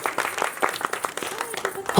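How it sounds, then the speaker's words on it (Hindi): Audience clapping at a devotional singing event, scattered hand claps in a loose rhythm mixed with crowd noise and some voices. "सच्चे दरबार की ताली बजाने के लिए।"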